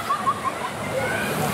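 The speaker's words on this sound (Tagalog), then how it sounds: "Tapos itong ilog dito, ang ganda." River water rushes and splashes steadily at a rafting spot in Barangay Pamutucan, Zamboanga City, a soft close wash with faint whistle-like tones above it.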